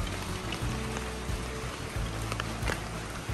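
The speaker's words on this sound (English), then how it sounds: "being the wet season, it's raining again." Steady wet-season rain at a beach resort in Ao Nang, Krabi, Thailand patters continuously, a soft hiss with scattered drips, with a low rumbling hum underneath throughout.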